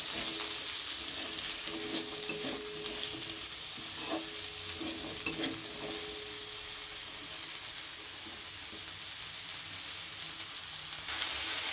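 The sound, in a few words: onion and red capsicum stir-frying in a pan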